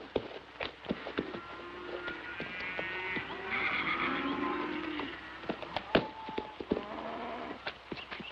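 A horse whinnies loudly in a long, quavering neigh mid-clip, surrounded by snorts, thumps and shorter nickers nearby.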